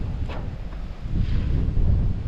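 Steady low rumbling gusts of wind buffeting the microphone at a river spillway, dense and continuous throughout.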